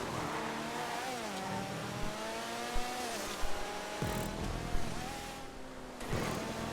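A Buffalo car's engine in a GTA 5 race, revving loudly with rising and falling pitch as it accelerates and shifts gears, up close and continuous, with no talking.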